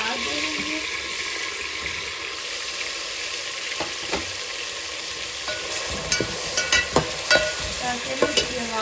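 A steady sizzle of onions and ginger garlic paste frying in a pan, with occasional stirring clinks and scrapes growing busier toward the end.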